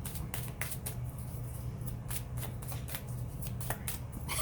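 A deck of Angel Therapy oracle cards by Doreen Virtue is shuffled close up, with rapid, repeated riffling flicks and soft slaps that continue without pause.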